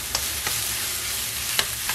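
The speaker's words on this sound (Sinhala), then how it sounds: "මම දැන් මේක ඉක්මනටම හොඳටම හැඳි ගන්නවා. කලවම් කරන්න ඕනේ මේක තැලෙන්නේ නැති වෙන්න." Grated zucchini frying over a high flame in a pan, stirred with a spoon: a steady close sizzle broken by a few sharp scraping strokes of the spoon, with no talking.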